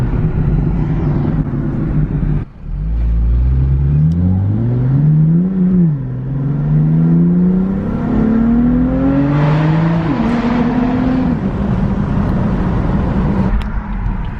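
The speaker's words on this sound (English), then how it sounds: "So the burbles are crazy." Loud car exhaust from a car fitted with an Active Autowerke equal length mid pipe, revving up and down in rising and falling sweeps, with burbling crackle as the revs drop, close by and without talk.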